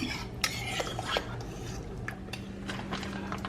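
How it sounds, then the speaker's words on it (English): Red beans and rice are stirred in a crockpot, a spoon scraping and knocking softly against the pot in irregular strokes under a low background hum. "I'm gonna stir this"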